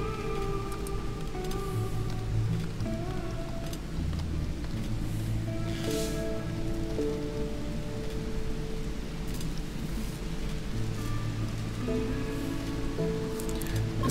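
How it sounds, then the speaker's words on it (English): Steady rain falls in RimWorld as a constant even patter, mixed under sustained musical tones that run through the whole stretch at a moderate level. "It's been one hell of a rainy day today."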